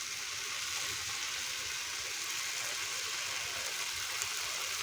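Cashew paste frying in hot oil for Bengali dhokar dalna gives a steady, even sizzle that holds unbroken throughout, with no talking over it.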